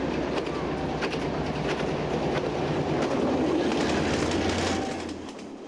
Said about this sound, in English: At Waiatira, the locos were run around the train for the return trip to Auckland.